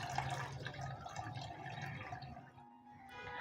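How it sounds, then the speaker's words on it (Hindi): Water is poured into a cooking pot for beef yakhni, a soft gurgling splash that trickles on and then tapers off, faint and close by. "4 गिलास पानी डाल के यखनी को हम पकने के लिए रख देंगे"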